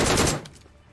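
A short, loud burst of video game gunfire lasts under half a second and then quickly fades away.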